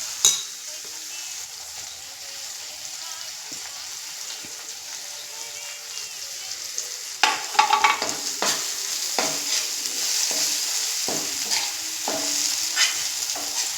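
Garam masala with Kolhapuri red chili powder sautéing in oil, starting as a quiet hiss, then louder crackling sizzle with repeated stirring and scraping strokes in the second half.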